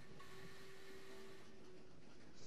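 A fast train in the Train Valley video game rumbles with a steady, even hum and a faint high whine, with no talk over it.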